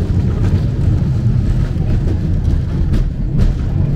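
Inside a nearly 100-year-old historic tram riding through rush-hour traffic in Buenos Aires, a loud, steady low rumble and rolling drone with faint clanks and passing traffic noise, no talking.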